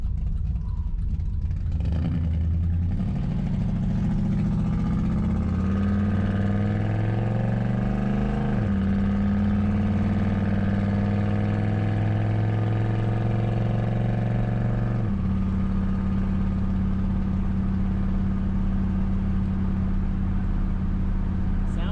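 A 1966 Ford Mustang's engine drones loud and close while cruising, its pitch climbing and then dropping back as the car shifts through gears, steady and unbroken throughout.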